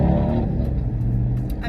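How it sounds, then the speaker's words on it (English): A car engine turns over and runs with a steady low rumble, close and fairly loud, with no talk over it. "turning my car on just now"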